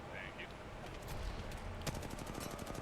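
Rapid R-301 rifle bursts in an Apex Legends match crackle under a constant layer of shouting commentary, with one sharper loud crack midway and continued fire afterward.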